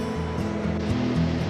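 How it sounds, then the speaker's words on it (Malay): Water falls inside a cave in a steady, dense rushing wash, loud and close, with no voices present. "Air jatuh."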